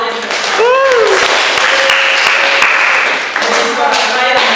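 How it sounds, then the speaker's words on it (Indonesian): A large live podcast audience of several thousand claps in a sustained wash of applause, with voices speaking over the clapping throughout. "Tolong tepuk tangannya dulu awalnya."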